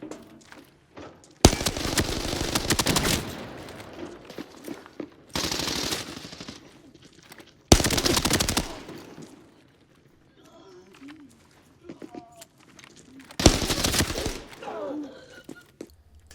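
ZC gun in the video game Lockdown firing in several loud bursts of rapid automatic fire, separated by quieter stretches with faint game noise.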